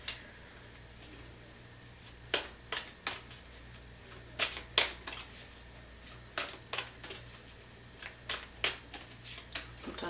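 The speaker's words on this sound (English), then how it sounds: "Sometimes I just feel like I need to shuffle, shuffle, shuffle." Tarot cards are shuffled in short crisp bursts, irregular riffles and slaps spaced a second or so apart over a low steady hum.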